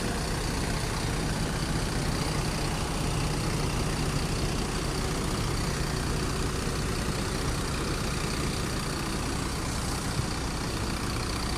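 A large intercity bus idling at a terminal in Pekanbaru, a continuous heavy diesel rumble that stays loud and unchanging throughout, with no pauses or revving.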